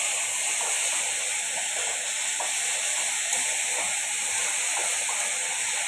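Lukewarm water poured into a pan of cooking tangra fish curry, making a loud, continuous hiss and rush that holds steady throughout, with no voices heard.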